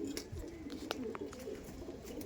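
Andhra breed pigeons coo softly at a seller's loft, a few low murmuring coos near the start rising over steady background hum, with brief chirp-like notes scattered through.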